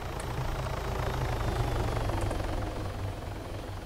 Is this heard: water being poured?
no